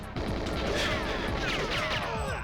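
Gunfire in the video game GoldenEye 007 keeps up as a steady, loud fusillade of overlapping automatic shots with crashing impacts, dense and continuous throughout.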